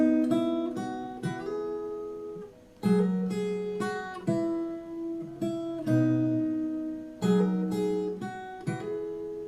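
Fingerstyle acoustic guitar plays the solo melody of a song, plucked single notes and paired open strings ringing together in phrases, with three strong strummed accents marking new phrases, close and clear with no talking.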